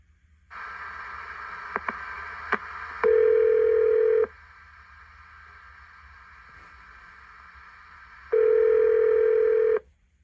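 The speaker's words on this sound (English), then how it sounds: "we'll dial this phone number right now" A telephone line hisses as a number is dialed for a radio show call, with short clicks, then a loud steady ringing tone that stops, a quiet gap and a second identical ring.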